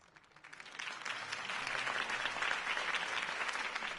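Crowd applause swells after a mayoral campaign speech by Harvey Dent in a Batman video game, starting softer and building into steady, dense clapping that fills the space for several seconds.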